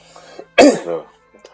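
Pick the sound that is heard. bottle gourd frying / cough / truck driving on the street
cough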